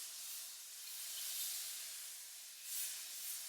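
A dollop of butter sizzles in a hot pan, a soft steady hiss that swells briefly a couple of times, faint and without talk.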